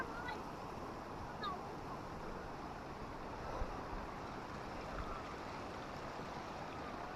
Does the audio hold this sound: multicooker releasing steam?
no